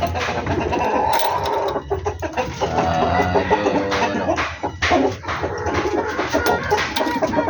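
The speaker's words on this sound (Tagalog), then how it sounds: "Ayan yung mga manok natin." Several chickens cluck and squawk over one another in a loud, busy barnyard din, with no pause in the noise.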